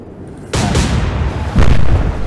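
Two heavy booms from naval cannon shots in the Atlantic Fleet battleship game, loud and deep, each followed by a rumbling tail, the second landing about a second after the first.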